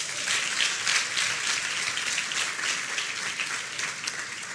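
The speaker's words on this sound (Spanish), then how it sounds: "Dale un aplauso a las mamás" Steady applause from a church congregation for mothers during a sermon, many hands clapping densely and evenly at a moderate distance, with no voices on top.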